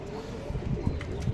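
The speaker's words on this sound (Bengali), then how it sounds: "এই যে কবুতর, এই দিক দিয়েও কবুতর ঢুকে" Pigeons coo in a netted loft, a few soft, low throaty calls pulsing close by over a faint hum, with a brief murmur of background voices.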